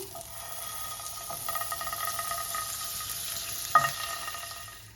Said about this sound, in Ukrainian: На сковорідку даю трошки масла.